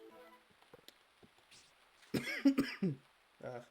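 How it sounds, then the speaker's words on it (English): A few harsh coughs and throat clearing arrive in a quick cluster near the end, close and fairly loud after quiet rustling. "I'm sorry about the coughing."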